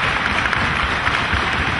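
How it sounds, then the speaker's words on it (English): A partisan crowd at a Dragon Gate wrestling show in the UK cheers and claps, a dense, loud and continuous wash of applause and noise throughout. "This crowd, partisan crowd, urging him on"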